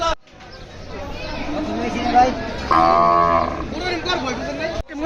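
Cattle at the Hazratpur cattle market low repeatedly, with several long, loud moos close by over a steady crowd murmur and market chatter.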